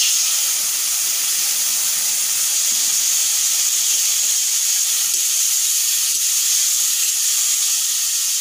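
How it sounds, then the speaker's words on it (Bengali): Spices in a pan hiss loudly and evenly once a little water is splashed in, a strong steady steam sizzle that fills the whole stretch without any talk. "মশলা পুড়ে যাচ্ছে তার জন্য অল্প করে একটু জল দিয়ে দেবো"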